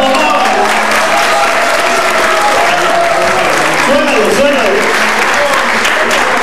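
Audience at a bolero night in Bogotá applauds a musician in a loud, dense, unbroken wash of clapping, with a few voices calling out through it.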